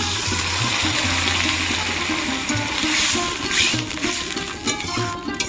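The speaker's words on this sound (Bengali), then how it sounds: "অল্প করে জল দিয়েছি আমি" Water pours into a pan of jackfruit seeds with a steady, close gushing and splashing rush that continues throughout, then turns a little uneven near the end.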